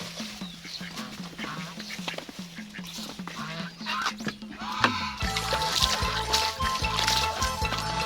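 Ducks quack repeatedly in a busy, noisy flock nearby, the calls growing denser and louder partway through.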